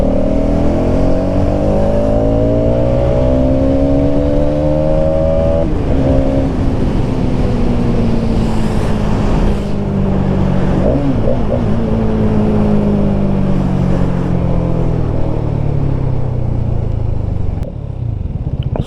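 A Hero Xtreme 250R motorcycle accelerates hard in first gear, its loud, close engine note climbing steeply in pitch before easing off near the end.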